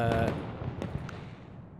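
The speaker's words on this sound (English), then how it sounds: "I can hear the fireworks, but I don't know where they're coming from." Fireworks go off in the industry simulation game Rise of Industry, a quick burst of muffled pops and crackles that fades within a second or two, fairly distant and with no one talking.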